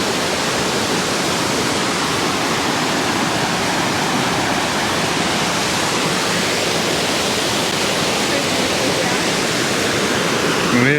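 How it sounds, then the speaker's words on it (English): A waterfall in the Victorian High Country, swollen after fresh rain, pours into a pool below with a loud, steady, close roar of rushing water that never lets up. "This water is just pumping."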